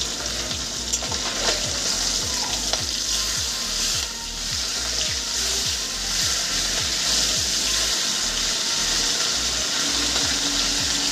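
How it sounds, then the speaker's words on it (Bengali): Raikhor fish fries in hot oil with a loud, steady sizzle that hisses continuously throughout, close up with no voices. "আমি উল্টে আর এক পিঠ ভেজে নেব"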